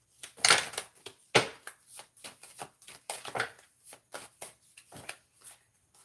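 Tarot cards being shuffled up close, a quiet series of sharp riffling and slapping bursts in an irregular rhythm, with soft pauses between handfuls and no talking.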